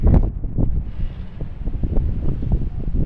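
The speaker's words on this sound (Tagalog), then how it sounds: "Lakas ng hangin dito sa tower." Strong gusty wind on a high tower, 48 floors up, buffets the microphone in a continuous low roar and rumble, with no voices heard.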